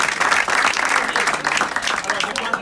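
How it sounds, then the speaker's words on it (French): An audience at a science quiz competition's opening day claps steadily and loudly throughout, dense applause filling the whole moment without a break. "On applaudit très fort tout le monde."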